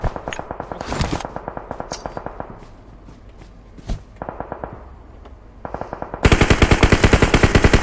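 Rapid automatic gunfire in the battle royale game PUBG Mobile, with bursts of sharp shots, a pause with scattered single shots, then a loud, fast sustained burst at the end, no talking.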